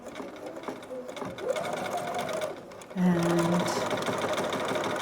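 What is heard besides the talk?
sewing machine stitching a straight half-inch seam on a hood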